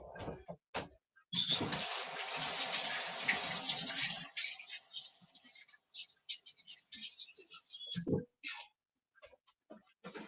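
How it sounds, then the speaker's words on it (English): Tap water gushes into a sink as hands are washed, a steady broadband rush running about three seconds before tapering off, followed by scattered handling noises and brief speech. "Wash my hands, guys."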